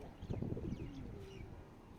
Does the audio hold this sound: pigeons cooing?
yes